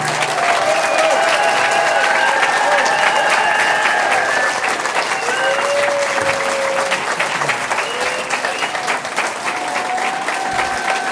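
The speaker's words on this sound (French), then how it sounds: "Je voudrais un tonnerre d'applaudissements pour le député de la première circonscription du Vaucluse, Raphaël Arnaud." A crowd at a political rally applauds loudly and continuously, a dense steady roar of clapping with scattered cheers and whistles rising above it.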